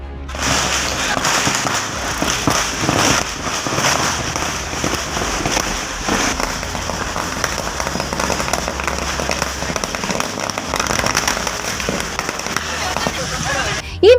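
Rapid, dense crackling and popping of firecrackers bursting continuously for several seconds at a political party workers' celebration, with people talking in the background.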